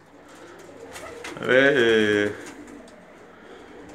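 A Bulgarian breed pigeon gives a single close, resonant coo lasting about a second. A voice speaks briefly nearby.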